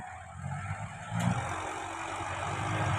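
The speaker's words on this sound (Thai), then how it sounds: "รถไถก็จะเกรบให้เลยนะคะ" A tractor grading the ground to level a site, a continuous rumbling engine drone with a slight rise in power partway through, heard at moderate distance.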